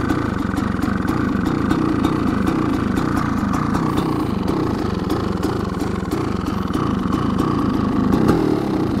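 A Kawasaki KX500 big-bore two-stroke supermoto engine idling very low, a loud, close, lumpy burble with an uneven pulsing rhythm that holds steady throughout.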